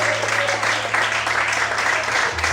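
A church congregation applauds God during a sermon, a continuous burst of many hands clapping with a low sustained tone, likely an instrument, and voices mixed in beneath.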